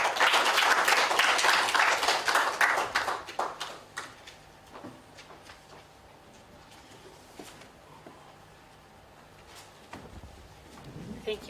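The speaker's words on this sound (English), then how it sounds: "Let's give her a big round of applause." A crowd at a community launch event claps for a guest speaker, loud applause for about three seconds that fades into quiet room noise with scattered small sounds.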